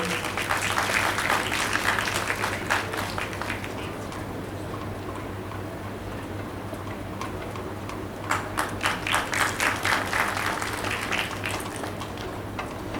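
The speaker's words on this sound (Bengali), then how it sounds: "আপনারা করতালি দিয়ে অভিনন্দিত করুন" An audience applauds at a cultural evening on the Rabindra Sadan stage: a dense burst of clapping at the start, a thinner patter in the middle, then a second swell of applause before it fades.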